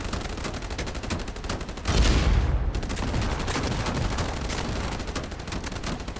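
Rapid machine-gun bursts rattle continuously in a naval battle from the video game Age of Water, a dense steady barrage with a louder swell around the middle, no voices.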